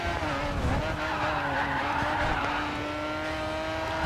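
Race car engine droning steadily with sustained tire squeal and skidding in the GRID 2 racing game, loud and continuous throughout with no talk.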